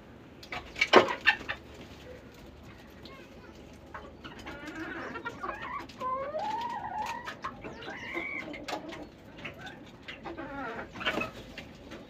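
Hens on a poultry farm cluck and murmur in irregular bursts, with one sharper squawk early on, moderately close, among soft barn noise and faint talk.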